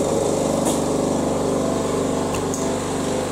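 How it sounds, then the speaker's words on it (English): A shop air compressor runs with a loud, steady mechanical chug and rapid pulsing motor rhythm, close and alone, in a workshop with a Tormach SlantPro lathe. "I'll put the compressor on now because I want to show you something pretty cool."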